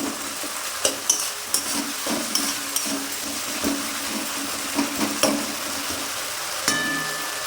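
A spoon stirs chicken curry with potato in a hot pan over a loud, steady sizzle of frying, with intermittent scraping and clinking strokes against the pan, heard up close.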